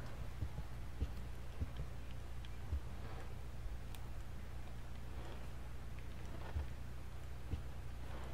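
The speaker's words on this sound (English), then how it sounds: "And I can hear the rain. It sounds really good." Steady rain from a video game played through a FUNC HS-260 headset, a continuous soft hiss with a low hum beneath and occasional faint ticks, with no talking.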